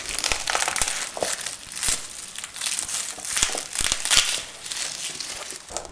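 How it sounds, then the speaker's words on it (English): Garlic bulb crushed to break its papery skin while making chimichurri sauce, a dry crinkling and crackling crunch repeated in short close bursts over about six seconds, with no talk. "Just crush the bulb to break the skin."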